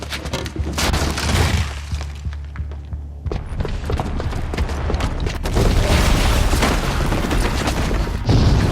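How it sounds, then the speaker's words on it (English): Bomb booby trap detonating in the video game Horizon Zero Dawn, heavy booming explosions with crashing debris, breaking and rumbling, loud and turbulent with a brief lull before a second violent surge. "the booby trap on the bomb downstairs is gonna get set off"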